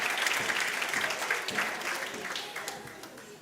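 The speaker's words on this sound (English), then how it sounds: "A round of applause for them." An audience at the 2023 Western Cape Prestige Agri Awards gala ceremony applauds in a steady, moderately loud patter of many hands that eases slightly toward the end.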